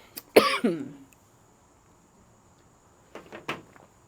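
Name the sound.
coughing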